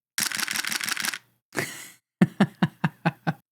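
Nikon F5 90s professional film camera firing its shutter in high-speed continuous mode: a long rapid burst of clacking frames, a brief whirring pause, then a second run of about eight sharp, evenly spaced shutter clicks, close and alone.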